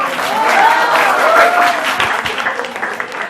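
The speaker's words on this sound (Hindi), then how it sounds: "बहुत जोरदार तालियों से स्वागत कीजिए।" An audience at a Holi mushaira breaks into loud, close applause to welcome a poet, a dense burst of clapping lasting a few seconds, with a voice briefly heard over it.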